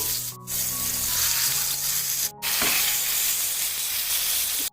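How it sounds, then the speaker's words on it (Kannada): Brinjal slices frying in oil on a tawa, a steady loud sizzle running throughout with two brief dips as pieces are moved or turned. "ಈಗ ನಾವು ರೆಡಿ ಮಾಡಿ ಇಟ್ಕೊಂಡಿರುವಂತಹ ಬದನೆಕಾಯಿ ಸ್ಲೈಸಸ್ ಅನ್ನ ಫ್ರೈ ಮಾಡ್ಕೊತಾ ಇದ್ದೀನಿ."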